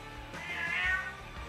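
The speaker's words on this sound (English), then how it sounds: "see how he's meowing?" A male cat lets out one drawn-out, rising and falling meow, close and clear against a low background murmur, with no talking over it.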